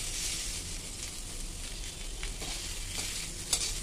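Khoya, milk solids, roasting in a kadhai on a gas stove gives a steady, fairly quiet sizzle with soft frying crackle throughout and one brief scrape near the end, with no voices.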